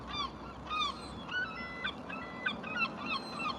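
Two seagulls call loudly right beside a parked car on a riverside tour through Gorleston, giving repeated sharp, honking cries in bursts over steady background rumble.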